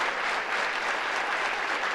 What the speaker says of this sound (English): Good to hear the crowd, isn't it?